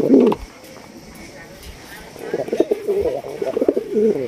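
Colouring Raj Golla fancy pigeons coo in low, throaty bursts close by. One call comes at the start and a longer run of cooing follows in the second half, with human voices at times.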